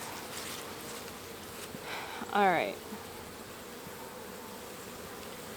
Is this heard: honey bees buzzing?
yes